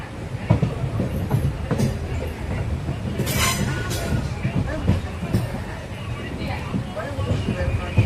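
Mannargudi to Mayiladuthurai passenger train running, a steady rumble of wheels and carriage rattle with rhythmic clacks, brief squeals, and faint chatter among passengers inside the coach.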